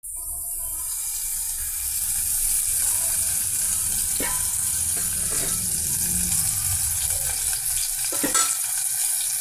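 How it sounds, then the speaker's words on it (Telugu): Onion pieces and green chillies frying in hot oil for a curry, a constant close hiss of sizzling with occasional stirring clatter, no talking. "ఆయిల్తో పెద్దలిపాయ పీసెస్ పచ్చిమిర్చి ఫ్రై చేస్తున్నామండి."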